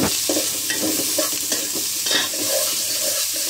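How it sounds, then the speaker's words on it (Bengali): Beef with salt, garlic, onion, ginger, cinnamon, cardamom and bay leaves stirred and fried in a pan, a loud continuous sizzle with repeated scraping stirs, close and alone. "লবণ দিয়ে দিলাম, লবণ দিয়ে এখন নাড়াচাড়া করব।"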